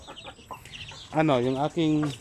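Native chickens in a breeding pen, soft clucks followed by two louder drawn-out squawking calls from a nearby hen, close and clear, with no voice.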